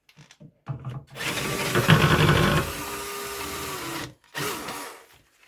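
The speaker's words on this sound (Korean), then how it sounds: "신발장 하부 위치를 생각하신 다음 드릴러를 이용해" Power drill boring holes under a shoe cabinet: short trigger bursts, then a loud sustained whine that drops in pitch as it bites into the wood, stops, and gives one more brief burst, with no speech.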